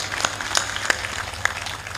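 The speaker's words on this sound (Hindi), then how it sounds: "खड़े हो जाइए, ताली बजा दीजिए।" Scattered handclaps from a small crowd, uneven and sparse, pop in and out for a couple of seconds without anyone speaking.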